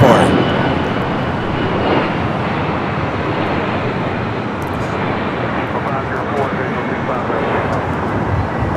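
Delta Boeing 767-300ER arriving at Los Angeles airport, a steady broad jet roar held at even loudness throughout, with a commentator talking over it.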